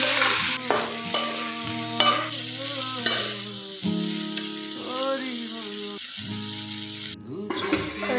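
Spice paste for ghugni frying and being stirred in a pan, a steady close sizzle with scraping strokes, under strong harmonic tones that sound like music or other voices, with a short gap near the end.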